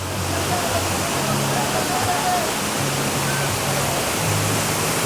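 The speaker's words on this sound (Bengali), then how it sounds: "এখানে জল দেখুন খালি নামছে দেখুন উপর থেকে" Water plunging from a height at Ajodhya Hills, Purulia, a dense steady roar of falling water filling the whole clip, loud and continuous.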